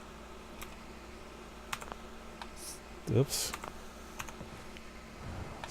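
PC keyboard keys are pressed during a Fallout 4 game session, giving a few faint, scattered clicks against quiet background hiss, with a brief spoken word.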